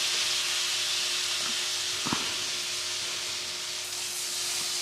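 Butter sizzles in a hot pan while cooking tournedos Rossini, a steady close hiss that runs throughout, with one faint clink partway through.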